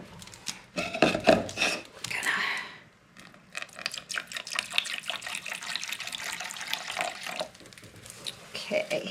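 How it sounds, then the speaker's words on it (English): Distilled vinegar pours into a container for horseradish sauce in bursts of splashing liquid, with a brief pause midway, and a person speaks over it. "I am going to add my distilled vinegar now"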